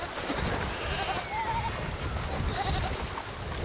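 Goats bleating as Mongolian nomads drag them across a river during a herd move: a few short, wavering bleats rise over a constant rush of water, fairly close.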